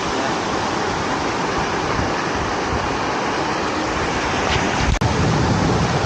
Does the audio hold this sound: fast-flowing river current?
yes